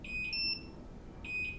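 A ViFly Finder 2 drone finder gives two short, high-pitched electronic beeps, each a quick double chirp, separated by a pause over quiet background noise.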